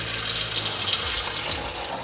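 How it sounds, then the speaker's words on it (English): Water gushing steadily into the reservoir of a Breville Barista Express espresso machine, a loud, close, continuous pour with no talking. "So now I'm actually add some water inside"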